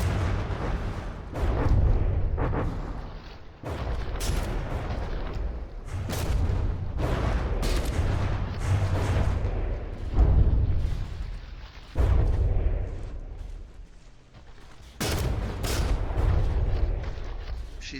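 Warship artillery barrage in the naval combat game From the Depths, with heavy booming salvos repeating every few seconds in a dense, rumbling continuous bombardment.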